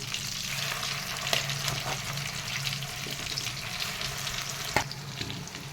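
Hotel-style chicken 65 pieces deep-fry in a pan of oil with a continuous bubbling sizzle at moderate volume, broken by a couple of sharp clinks from a utensil, with no talking.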